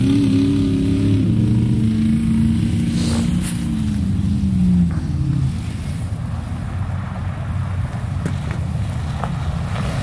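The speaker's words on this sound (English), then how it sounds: "This is a whole line of cars just leaving the ice, all in that road." Several cars driving off a frozen lake along an ice road, a steady nearby engine and tire rumble with a passing vehicle's tone shifting in the first seconds, continuous for about ten seconds with no talking.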